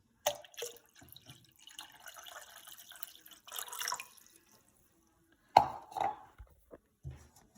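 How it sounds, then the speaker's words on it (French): Water is poured into a dilute solution in a lab setting, heard as sparse nearby splashes, drips and clinks separated by quiet gaps. "Alors, on va verser l'eau."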